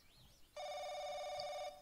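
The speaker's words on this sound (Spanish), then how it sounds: "Oh, una llamada." Telephone ringing in a BL video game: a single sustained electronic ring burst of about a second, fairly clear over a quiet background.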